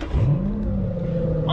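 An Aston Martin engine catches and settles into a steady, close, droning idle with a brief rising note at the start, while faint voices are present.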